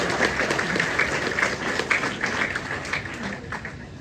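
An audience applauds at a garden rededication at a museum, steady dense clapping filling the whole stretch at close range.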